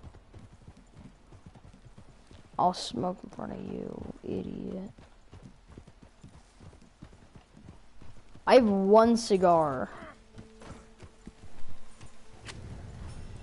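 Horse hooves clip-clop steadily in Red Dead Redemption 2 Online, a soft rhythmic walking beat running throughout beneath people talking loudly.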